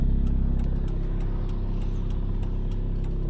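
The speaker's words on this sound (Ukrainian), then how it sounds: "Бачимо, дуже багато автівок з міста їде." City traffic on a busy avenue, with several cars rolling past at close range, a steady engine rumble and road noise that never drops away.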